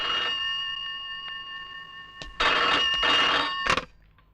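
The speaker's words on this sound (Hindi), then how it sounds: "आपके लिए दारोगा जी का फोन है।" A telephone rings with an electronic trill. A faint ring comes first, then a loud sustained burst and one short final ring before it stops.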